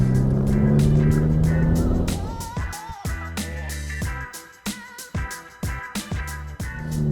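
A 2023 Ferrari Roma drives in wet weather, its engine humming steadily before a series of sharp, rapid gearshift blips and revving bursts, close and fairly loud.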